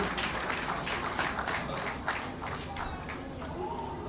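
An audience at an agricultural, industrial and food show in Denbigh breaks into a round of applause, with distinct overlapping claps forming a lively, sustained wash throughout.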